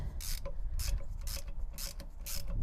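A hand tool with an Allen bit ratchets a motor bolt tight on an RV hydraulic leveling system, making five close, rhythmic bursts of clicking ratchet strokes with short pauses between them.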